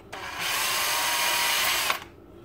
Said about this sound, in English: We'll mark the back of the counter so that we can drill a matching hole.